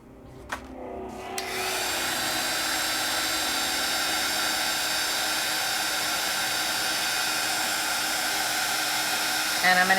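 A craft heat tool clicks on and then blows a steady, loud whirring roar while melting clear embossing powder, a few small knocks before it starts, continuous to the end.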